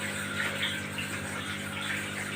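Water runs steadily from an automatic float-valve faucet into a fish pond top filter, a continuous close hiss and splash without pauses.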